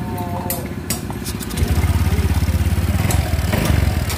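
A Honda Vario 150/125 scooter engine starts partway through and settles into a steady, close, throbbing idle during radiator coolant refilling, with mechanical clatter beforehand.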